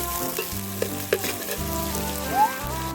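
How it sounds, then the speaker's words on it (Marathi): Onion fries in hot oil in a pan, a continuous close sizzle with occasional light scrapes of stirring, no talking. "तेल गरम झाल्यानंतर आम्ही कांदा टाकून घेतला त्याच्यात। तर आता कांदा चांगल्या प्रकारे परतून घेणार आहोत"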